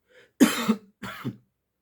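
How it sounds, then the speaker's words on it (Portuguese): Two harsh coughs, a short rough burst followed about half a second later by a second, close and fairly loud, with silence after. "Estou com a tosse que só Jesus."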